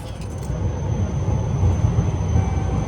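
A train pulls into Sasebo station in Japan with a steady, loud low rumble and wheel roar, a faint high squeal running above it, and no speech.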